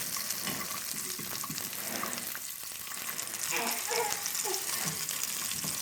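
Ingredients stirred in hot oil in a pan, a loud continuous sizzle and bubbling with scraping stir strokes and brief faint voices underneath.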